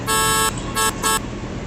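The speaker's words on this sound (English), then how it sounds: "So let's do a honk." A car horn sounds in three blasts, one long and two short, loud and close with a bright buzzy tone, followed by faint background noise.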